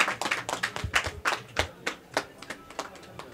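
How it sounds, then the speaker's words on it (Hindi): A crowd claps at a political event in Vikaspuri, Delhi, with scattered, uneven hand claps forming a fairly faint, irregular patter for a few seconds and no talk over it. "जोरदार तालियां बजाओ भाई।"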